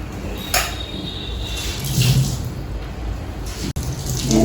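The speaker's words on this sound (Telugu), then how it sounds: "వాటర్ వచ్చింది" A kitchen tap runs in a steady rush of water with a few knocks and clatters, close and fairly loud, with no talking.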